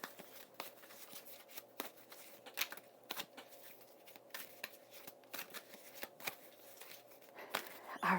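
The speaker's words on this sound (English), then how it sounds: "While I was shuffling" A deck of tarot cards is shuffled by hand, with soft, rapid riffling and sharp flicks repeating irregularly, close up and fairly quiet, with no talking.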